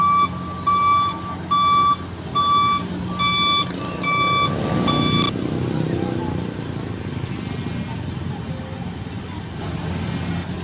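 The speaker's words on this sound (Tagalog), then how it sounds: "Ito yung ispalto, isang truck." An asphalt truck on a road-paving job sounds a series of sharp, evenly spaced reversing beeps, then the beeping stops and the heavy engine rumble and traffic noise carry on close by.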